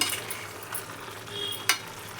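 Chicken gravy curry stirred in a pan, with a steady soft sizzle and scraping under a few spoon strokes and a sharp clink near the end, close and without voices.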